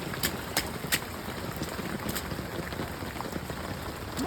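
Heavy rain pours steadily during an atmospheric river, a dense hiss of drops striking surfaces and an umbrella nearby, with a few louder splattering bursts and no talking.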